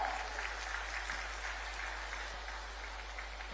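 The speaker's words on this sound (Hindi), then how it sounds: "तालियां आपकी ओर से हो।" Crowd applause at a government beneficiary event in Jharkhand, moderately loud and steady at first, softening slightly toward the end over a constant low hum.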